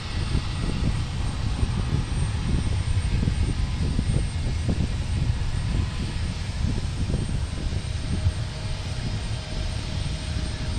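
Airliner taxiing or taking off at Portland International Airport, a continuous rumbling engine roar with a faint steady whine, fairly loud and unbroken, no voices over it.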